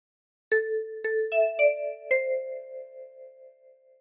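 A meme tune picked out on a 10-key kalimba, a few bright plucked metal tines ringing one after another in a slow phrase, each note sustaining and fading close up with no voices.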